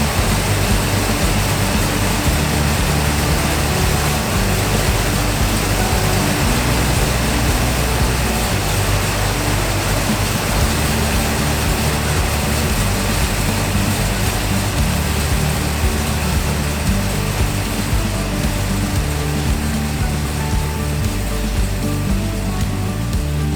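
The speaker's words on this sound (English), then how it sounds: "I made small adjustments as the engine warmed up." A Ford Mustang Mach 1 engine runs steadily while warming up after carburetor work, a loud, continuous drone close by with no pauses and no talking.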